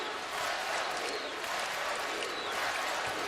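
A college basketball arena crowd roars during a tie game late between Utah and Duke, a continuous dense wash of cheering and noise at a steady, fairly distant level.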